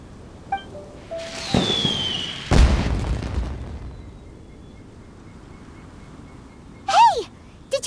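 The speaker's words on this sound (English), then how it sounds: "Did you hear that explosion?" An explosion in the Genshin Impact video game during the 2022 Lantern Rite event: a rumbling blast swells, then a sharp, loud boom cracks and decays, with softer game effects later and no talk.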